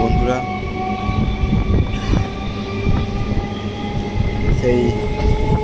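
A train travels toward Nungi station with a steady, close rumble of wheels and carriages. Faint rhythmic clatter and squeals sound throughout, with possible murmured voices in the background.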